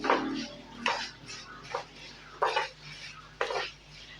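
Wheat flour and gram flour are roasted together in a pan for laddu, and a spoon scrapes and stirs against the metal in short, repeated strokes. The scrapes are soft and close, with pauses between them and no talk.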